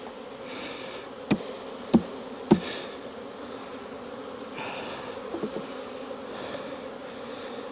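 Honeybees hum steadily around lifted hive boxes, a soft continuous buzz near the mic, broken by three sharp knocks early on and a few lighter taps later.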